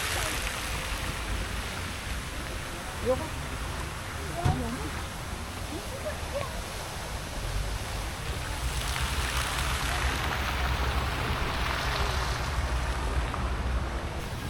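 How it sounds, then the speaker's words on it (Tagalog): Steady rain falls outdoors in Wright Park, Baguio, a broad soft hiss that thickens and grows louder toward the end, with a few faint knocks and low rumbles underneath. "Medyo lumalakas-lakas yung ulan."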